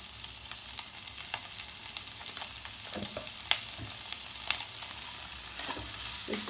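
Vegetables frying lightly in melted butter with a pinch of salt in a pan, a constant soft sizzle with scattered crackles and faint stirring scrapes throughout, close and unbroken by talk.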